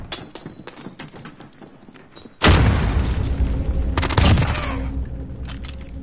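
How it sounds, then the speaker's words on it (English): A cruise missile detonates in a military shooter video game, a sudden loud, close boom that rolls into a long rumbling blast with a second burst, after a stretch of lighter clicks and distant thuds. "Cruise missile, hyper launch."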